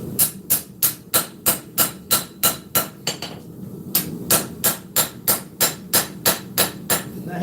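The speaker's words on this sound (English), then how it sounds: "So we're hammering at an angle, and the steel is angled on the actual anvil." A hammer forges tilted steel on an anvil while shaping a kwaiken blade, striking in loud, evenly spaced, ringing blows that pause briefly before resuming the same steady rhythm.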